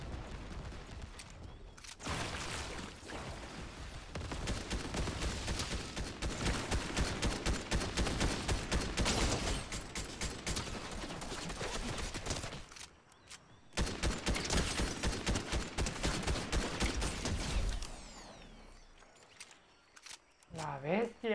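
Rapid video game gunfire rattles in long sustained bursts, loud and dense, broken by a brief pause before another volley, with a player talking and reacting over the shooting.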